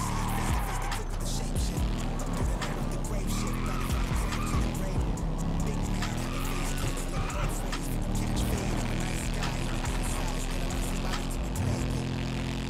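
A Yamaha TMAX 530 scooter in the GTA 5 video game races with a steady, loud engine drone and tyre squeals, amid dense game noise throughout.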